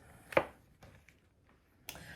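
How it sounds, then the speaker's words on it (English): A knife slices large mushrooms into segments on a board while a veal stew is prepared, giving a few sparse, quiet cuts with a sharper chop near the start and another near the end. "What to do is cut the mushrooms in segments."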